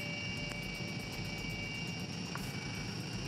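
A medical helicopter roars in flight, a steady loud rotor and turbine drone with rhythmic blade chop filling the cabin throughout.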